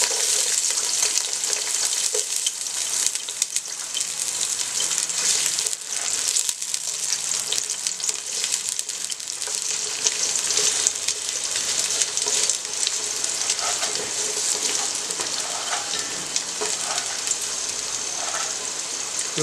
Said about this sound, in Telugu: అవి కొద్దిగా వేగిన తర్వాత కొద్దిగా ఉల్లిపాయలు వేసుకున్నాను.